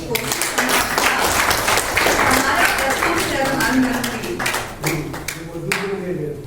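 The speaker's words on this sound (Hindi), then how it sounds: "तो यह मुझे लगता है तालियां बजनी चाहिए" Applause from an audience at a talk about Mauritius, dense clapping running throughout with a voice speaking over it.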